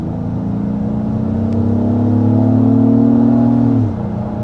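Engine of a 2024 Acura MDX SUV accelerating on a test drive, a steady smooth rising drone that holds strongly for several seconds before easing off near the end.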